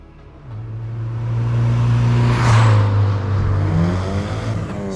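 Mitsubishi Eclipse GSX with a mostly stock turbo 4G63 engine fitted with an Evo 3 turbo, revving close by and climbing steadily in pitch toward 7,000 RPM, then easing slightly, with no talking.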